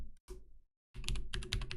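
Typing on a computer keyboard, close and quiet: a few separate clicks, a short pause, then a quick burst of rapid keystrokes.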